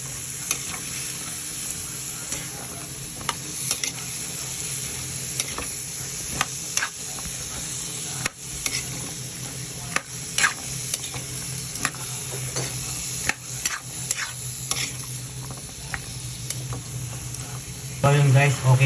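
Papaya cooking in a pan is stirred with a utensil, giving scattered scraping knocks over a continuous soft sizzle and bubbling, with a louder clatter at the very end.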